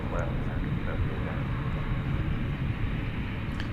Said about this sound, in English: Here goes the 777 to London, Flight 78.